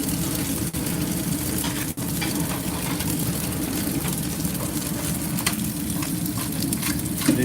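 Eggs and hash browns frying in a pan, a steady close sizzle and crackle that continues throughout, with a few faint clicks and no talking.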